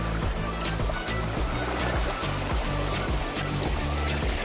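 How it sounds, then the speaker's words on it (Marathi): Water pours down from above beside a pineapple farm, making a steady, dense rushing and splashing that continues without a break, close and fairly loud, with no talking. "काय पण वरतून पाणी आलं."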